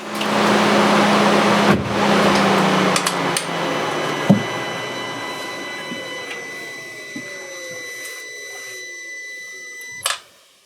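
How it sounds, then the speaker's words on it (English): An Audi TTS engine with a newly replaced cam follower turns over and idles with a steady hum, punctuated by a few sharp metallic clicks and knocks before fading down. "start the engine"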